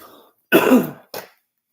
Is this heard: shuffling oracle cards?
no